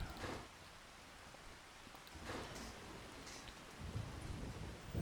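Rain falls in the farming video game Farming Simulator 25, a soft steady hiss with a few brief louder bursts of patter, faint and continuous with no talking.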